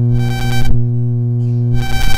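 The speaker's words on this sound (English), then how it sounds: "So this is the sound of this projector." Light flicker from a projector converted into sound, a loud harsh buzzing drone with rich overtones that cuts to a thinner hum midway, then swells back to the full buzz.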